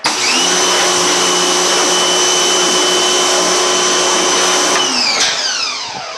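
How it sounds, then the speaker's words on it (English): A pressure washer spraying the back of a screen printing screen, a loud, steady close hiss with a droning whine that cuts off and winds down near the end. "take your pressure washer once again and start on the back of it"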